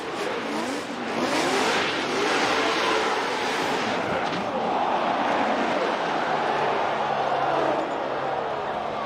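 Formula Drift pro race cars drifting around a Long Beach street track, engines roaring and revving with tire noise, loud and continuous with rising and falling passes.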